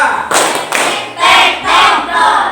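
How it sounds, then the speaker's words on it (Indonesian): A classroom of pupils clapping together on their teacher's count, loud bursts of unison claps in separate groups, close and filling the room. "selanjutnya kita tepuk bersama-sama ya"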